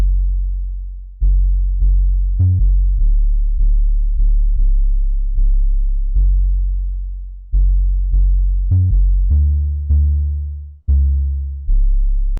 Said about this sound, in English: we have the 808 pattern, which is going to sound like this.